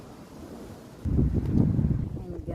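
Wind gusts through trees in a backyard on a windy spring day, a soft breathy rush that rises sharply partway through and buffets the microphone, with no speech over it.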